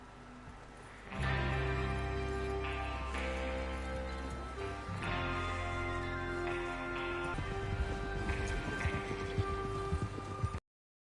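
Rhythmic hoofbeats of galloping horses in Red Dead Redemption 2 over a rich orchestral music bed, steady and loud throughout before ending abruptly.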